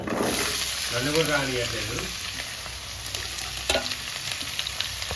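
Mixed vegetables for a vegetable pilaf hit hot oil with a steady, loud broadband sizzle that runs throughout, with stirring clatter and a brief voice partway through.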